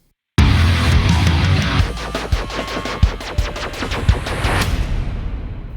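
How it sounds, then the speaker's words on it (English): Synthesized laser zaps fire in a rapid rhythmic burst over a booming electronic bass, loud and punchy, with sharp repeated hits. "We've got some lasers and some bass."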